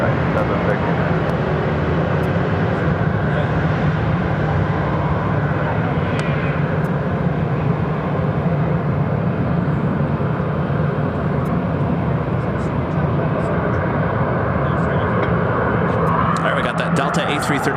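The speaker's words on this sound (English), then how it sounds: "Delta A330-300 heading back to Atlanta. Now starting taxi." A Delta Airbus A330-300 airliner begins taxiing at Phoenix airport, a loud continuous engine roar and whine holding steady throughout, with a voice talking over it.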